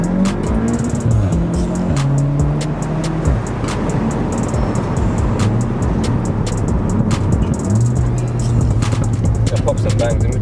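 A tuned Mk7 Volkswagen Golf R making 380 brake horsepower drives past loudly and continuously, its engine droning and shifting through gears while sharp exhaust pops and crackles punctuate the run.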